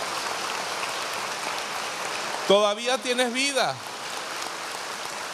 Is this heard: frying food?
no